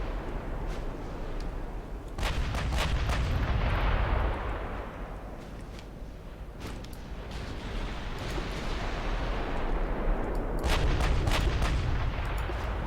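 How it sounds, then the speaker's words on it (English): Battleship main guns fire in Ultimate Admiral Dreadnoughts, a 1900 British naval campaign game, with several deep booming salvos and sharp reports spaced seconds apart, each rolling into long rumbling decay over a steady low background. "get all the guns firing"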